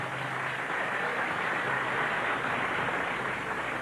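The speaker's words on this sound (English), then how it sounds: "Let's give them a warm round of applause." A pageant audience at Mutya Ng Pilipinas 1999 breaks into sustained, even applause for the contestants, a dense wash of clapping from a large crowd with no break.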